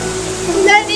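The Temesi Waterfall pours in a steady broadband rush for a brief moment, with a faint voice mixed into the constant roar.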